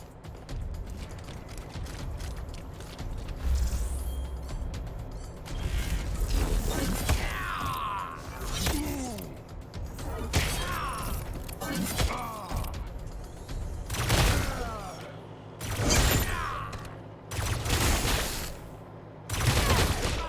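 Energy weapon fire in the video game Wasteland 3, with a weapon switch followed by repeated loud bursts and zaps at irregular intervals over layered game sound effects and background music.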